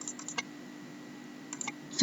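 Short bursts of keystrokes on a computer keyboard while entering VB.NET code, a few quick clusters of taps separated by a quiet pause, faint and close over a low steady hum.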